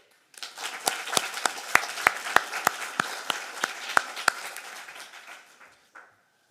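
A small group at a school leavers assembly claps steadily for a few seconds, individual claps sharp and distinct, then fading out with one last clap.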